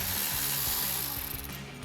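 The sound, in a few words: ratchet removing 12mm bolt from ABS and brake sensor harness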